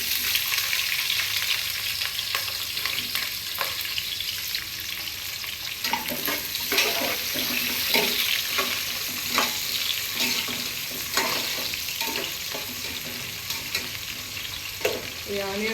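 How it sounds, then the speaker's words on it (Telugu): Onions frying in hot oil in a pan give a continuous, close sizzle with repeated stirring scrapes and crackles for about sixteen seconds. "చూడండి ఆనియన్ వచ్చేసి ఇలా వేగిపోయాయి అనమాట మనకి మంచిగా."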